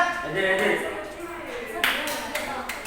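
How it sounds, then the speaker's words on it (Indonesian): A classroom audience breaks into applause, a burst of many hands clapping that rises partway through and continues under a speaking voice. "Oke, tepuk tangan dulu."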